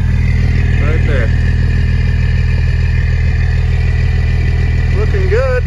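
A diesel bus engine idles steadily while warming up, with a low, even rumble throughout, while someone talks briefly over it near the start and end.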